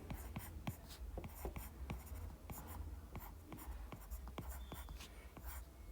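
Rapid scratchy strokes of writing out a physics equation, likely chalk or pen on a board, come as a steady run of short sharp taps and scrapes, close and clear with no talk over them.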